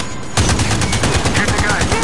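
Rapid automatic gunfire in the vehicular combat video game Vehicular Slaughter 2 bursts in after a brief quiet start and rattles on steadily and loudly to the end.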